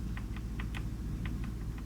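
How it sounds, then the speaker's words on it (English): Light typing on a computer keyboard, a handful of quick key clicks in an uneven rhythm over a low background hum. "as I clack away on my keyboard"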